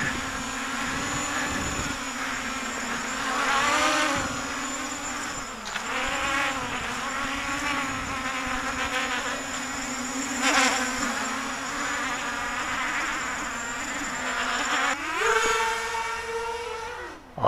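A Realacc GX210 FPV racing quadcopter with 2700 kV motors flies with a steady, insect-like buzz from its motors. The pitch wavers as it moves and climbs higher near the end.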